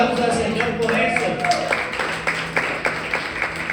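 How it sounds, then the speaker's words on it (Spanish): A church congregation gives a sustained round of applause, dense clapping with a few louder individual claps rising through it, fairly close and steady over its full length, with no talk. "Alguien tiene que darle un fuerte aplauso al Señor por eso."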